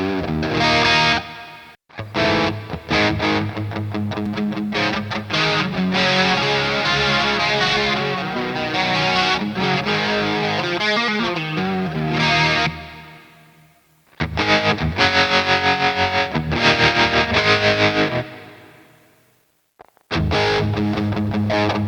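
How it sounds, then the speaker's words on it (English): Distorted electric guitar playing through the distortion preset of an Enya Nova Go Sonic guitar, loud and sustained chords and riffs with two brief pauses, no talking. "That's the distortion."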